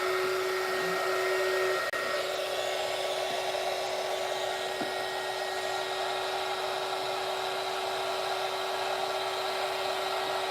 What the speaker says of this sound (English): you're not going to be able to hear me over the sound of the heat blower